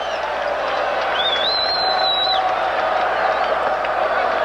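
A baseball crowd at a 1989 Phillies vs Mets game cheers Darryl Strawberry at the plate, a steady, distant roar of voices with a brief high whistle rising above it.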